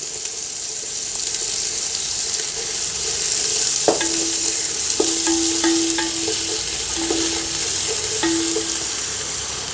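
Spring onion is stir-fried in a pan for chicken fried rice, giving a steady sizzle broken by several sharp scrapes and knocks of a utensil against the pan, with no voices.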